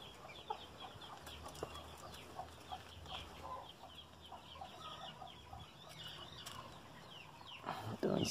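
A young hen clucks softly in a backyard yard for fighting-breed chickens, with other birds calling faintly in the distance. The sound is low and steady, with no talking.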